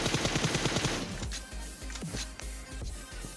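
Battle royale video game gunfire: a rapid automatic burst of close shots, followed by several sharper, separated single shots and scattered lighter impacts.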